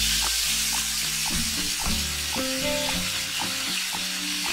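Tomatoes hit hot oil with fried dry red chillies for a koi fish curry, giving a loud, steady sizzle and frying crackle with some stirring clatter, with no talk.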